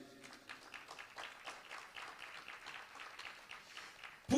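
A church congregation applauding to acclaim Jesus during a prayer gathering, sustained, fairly quiet clapping that ends in a brief louder burst.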